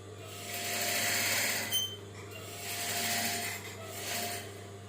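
A sewing machine runs a straight edge stitch through the lining of a patchwork blouse, a steady mechanical whir rising and falling in three short bursts against a constant low hum, close by and moderately loud.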